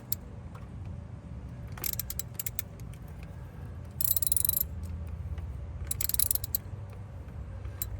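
Ratchet clicking with a 10mm socket as a nut is loosened in the engine bay of a Ford Bronco Sport 1.5L, bursts of close metallic ratcheting over low engine-bay rumble, no talking.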